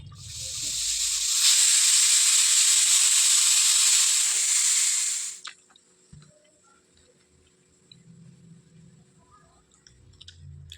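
A loud, steady pressure cooker whistle of hissing steam blasts for about five seconds, then cuts off abruptly, leaving faint clinks and low kitchen rustling.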